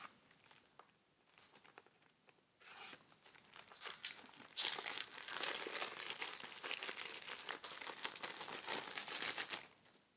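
Cellophane wrapping torn and peeled off a sealed Dreamcast game case, Midway's Greatest Hits: close crinkling and ripping that starts sparse and turns into a steady, loud crackle for the final half.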